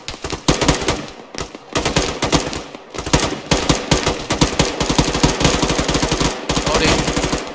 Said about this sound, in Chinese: 那个朝树林内扫射，掩护射击，开火